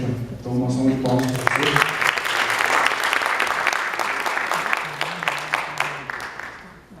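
After a brief spoken introduction, an audience at an academic panel bursts into loud, sustained applause for professor Ronald Hilbert, the clapping swelling quickly and then tapering off over several seconds.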